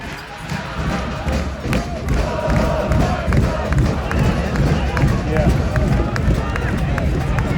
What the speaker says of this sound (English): the stomping you heard was from this end, not over there, this end